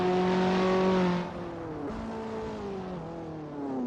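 Race cars in the sim racing game Assetto Corsa, engines droning loudly with pitch climbing through gears and dropping at shifts, several cars blending together in a steady roar with no voices.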